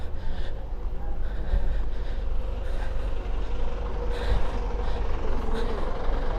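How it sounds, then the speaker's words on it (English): Open top tour bus in Edinburgh rolling past nearby, a low diesel rumble with traffic noise that swells and fades over several seconds, no talking. "So that's one of the open top tour buses."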